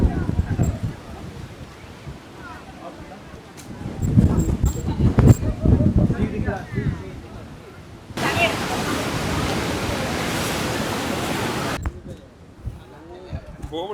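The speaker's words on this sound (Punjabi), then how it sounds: "ਹਵਾ ਹਵਾ ਚੱਲਦੀ ਹੈ ਬਹੁਤ ਜ਼ਿਆਦਾ" Strong wind roars across the top of the statue at Kanyakumari above the sea, with a loud, steady rush mid-clip and gusty buffeting around it, while people talk nearby.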